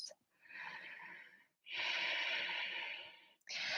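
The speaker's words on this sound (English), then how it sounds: "2 more deep breaths." Deep breathing during a vinyasa yoga practice: two long, audible breath cycles, airy and close, each a sustained rushing exhale or inhale separated by short pauses, with a third breath beginning at the end, no talk.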